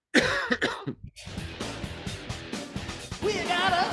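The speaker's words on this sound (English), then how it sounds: "the rest of us don't have to hear you actually coughing" A man coughs and clears his throat in a rough, rattling burst, followed by a longer stretch of harsh, uneven noise up close.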